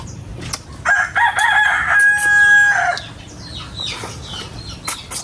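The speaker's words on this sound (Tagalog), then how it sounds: "Sayap ng mga sisiw, tilawak ng manok." A rooster crows loudly nearby, one long drawn-out call, with faint birds and rustling background noise around it.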